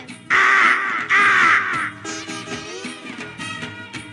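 A voice imitates a crow cawing in a Hindi comedy sketch: two loud, harsh, close caws, followed by softer voiced sounds.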